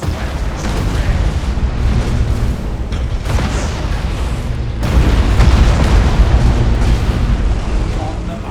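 Starship weapons fire and heavy explosions boom continuously in Battlefleet Gothic: Armada 2, a loud, dense rumbling barrage with a stronger surge midway, voices talking over it.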